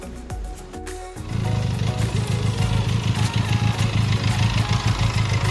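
A Benelli TRK 502 X adventure tourer motorcycle being ridden: the engine note swells after a brief lull into a steady, loud, throbbing run with a pulsing low rumble and wind noise, and no speech.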